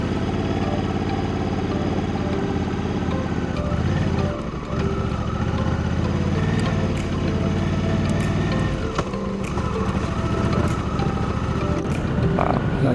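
A motorcycle is ridden with a steady, full engine drone that holds close and loud throughout, shifting slightly in pitch with brief dips in intensity.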